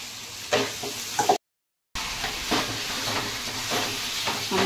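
Marinated chicken for a curry frying in a pan, a steady close sizzle with a few louder stirring scrapes, broken by a short gap of silence midway.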